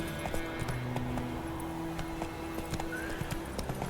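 Horse hooves clip-clopping at a gallop in the video game Witcher 3, a quick steady rhythm close by with occasional whinnies and a faint voice now and then.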